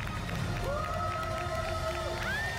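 A crowd at a corporate event rises for a forced standing ovation at the Staples logo reveal, cheering and whooping loudly with clapping and scattered shouts blending into a continuous roar.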